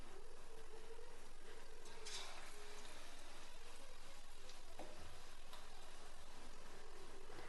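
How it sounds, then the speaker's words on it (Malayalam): Batter-dipped boiled egg halves fry in hot oil with a faint, steady crackling sizzle and a few soft splashes as pieces drop in. "എണ്ണ അവിടെ ചൂടാക്കാൻ വെച്ചിട്ടുണ്ട് നന്നായിട്ട് ചൂടായിട്ടുണ്ട് ഇനി നമ്മൾ ഓരോന്നെടുത്ത് മുക്കിയിട്ട് ദേ മാവിലിങ്ങനെ മുക്കുക ഇതിലേക്ക് ഇട്ട് കൊടുക്കുക"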